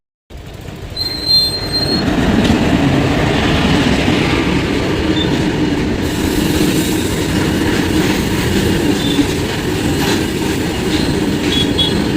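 A train pulls into a station platform, loud and close, with a steady heavy rumble of rolling wagons, rattling wheels and squealing brakes that holds for the whole stretch after a short quiet start.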